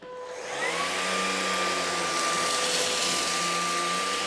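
A LEVOIT cordless vacuum cleaner spins up quickly and runs at a steady, loud whine with a high motor tone, close by and with no one talking.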